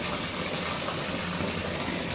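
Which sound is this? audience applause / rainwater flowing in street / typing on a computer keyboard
rainwater flowing in street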